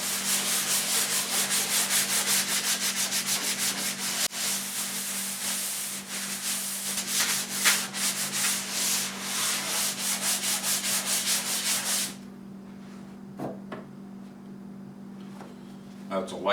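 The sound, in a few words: light sanding of primer on fridge front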